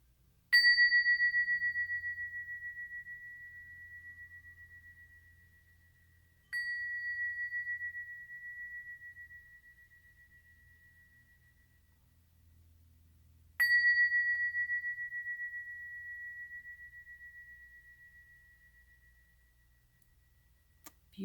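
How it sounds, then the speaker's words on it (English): A bell struck gently three times, each strike a clear, pure ringing tone that slowly fades over several seconds before the next, in a quiet room. "I'm going to hit a bell, but I'm going to hit it gently so you're not surprised."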